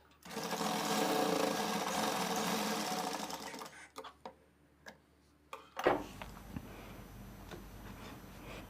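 A sewing machine stitches a lining blouse in a steady, fast whirring run for several seconds, then stops, leaving scattered mechanical clicks and taps of the fabric and machine being handled.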